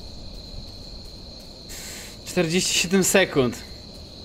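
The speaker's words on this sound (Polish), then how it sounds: "Ja nawet tutaj te świerszcze słyszę." Crickets chirp steadily and evenly throughout a horror game scene in The Joy of Creation Reborn, with a person speaking briefly over the constant insect drone.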